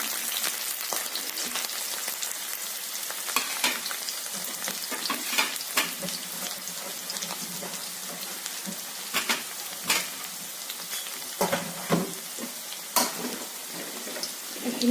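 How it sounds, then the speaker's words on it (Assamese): Onions with a ground paste of mustard, ginger, garlic and chilli frying steadily in a pan, a continuous close sizzle with occasional sharper crackles and stirring, no talking. "এইখিনি ভাজ খাই গৈছে, পিঁয়াজখিনি বেছি নাভাজো, এনেকৈ থাকক।"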